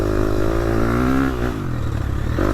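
A modern 250cc four-stroke racing motorcycle with traction control, ridden hard, its engine droning loud and steady with a rising pitch, then easing briefly near the end before pulling again.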